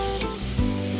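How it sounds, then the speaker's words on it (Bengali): Minced meat frying in a pan for a cheesy keema with peas and potatoes, a close, steady sizzle with a couple of quick scraping stir strokes; no talking. "এখন আমরা কিমাটা দিয়ে দিব। হ্যাঁ, আমি নাড়তে থাকি"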